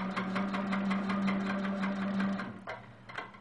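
Sewing machine stitching along the outer border of a quilt with a ruler as a guide, a rapid, even needle chatter over a steady motor hum that slows and stops near the end.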